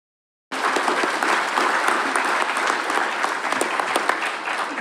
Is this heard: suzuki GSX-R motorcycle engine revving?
no